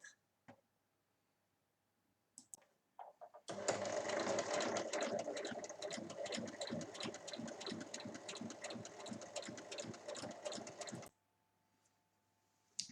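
A sewing machine runs in one continuous stretch of about seven seconds, stitching around the four edges of fabric for a small pouch. Its rapid rhythmic needle chatter sounds close, with a few faint clicks before and after.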